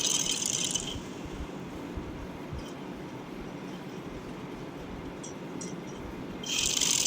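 Sewing machine stitching the neckline of a baby frock, a continuous fast rattling run with brief higher whirs at the start and finish, close and steady without talk.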